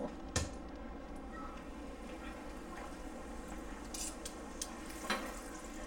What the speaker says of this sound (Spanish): Nada más las pasan por el aceite y las sacan.